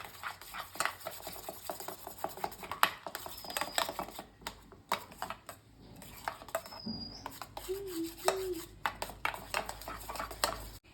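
Egg being mixed with chilli and salt in a bowl, a rapid irregular clatter of utensil taps and scrapes close by, with brief faint bird-like chirps in the background.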